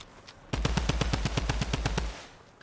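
Fortnite video game gunfire from a bot: a rapid burst of about a dozen evenly spaced automatic shots at moderate distance, lasting around one and a half seconds.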